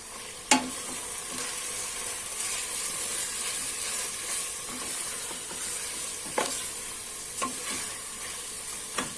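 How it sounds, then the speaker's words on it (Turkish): Peppers and tomato paste sauté in a pan for a Turkish meat and dry bean stew, a steady close sizzle broken by a few sharp spoon scrapes and stirs. "Salçamın da kokusu çıkana kadar bu şekilde kavuracağım."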